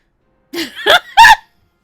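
A cartoonish duck quack effect from the video game Hakuoki: Kyoto Winds sounds as three quick, loud, nasal honks, rising in strength, with nothing else behind them.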